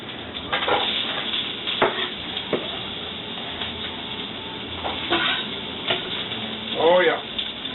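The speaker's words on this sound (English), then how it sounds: "you can hear that oil sizzling" Oil sizzles and crackles steadily in a frying pan up close, with occasional clinks of a utensil stirring and a short squeaky sound near the end.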